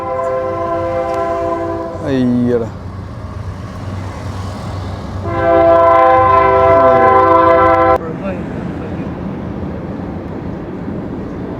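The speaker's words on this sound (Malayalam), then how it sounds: "ലാൻകാസ്റ്ററിലൂടെ ട്രെയിൻ വരുന്നുണ്ട് കേട്ടോ." Train horn blasting repeatedly while a train passes through Lancaster, loud sustained chords in two long bursts over continuous rumbling wheels, with a brief spoken exclamation.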